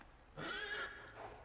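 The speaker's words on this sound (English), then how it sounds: "Get on the horse." Horse whinny from Pathfinder: Wrath of the Righteous, a single rising, neighing call lasting about half a second with a faint trailing tail, heard clearly over quiet game ambience.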